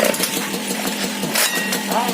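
An MBK 88 moped with a heavily patched exhaust runs loudly up close, a rough buzzing engine roar that stays dense and unbroken throughout.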